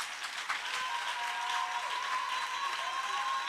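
A church congregation bursts into applause to acclaim God, a dense, steady wash of many hands clapping throughout, moderately loud and filling the room, with no clear voices over it.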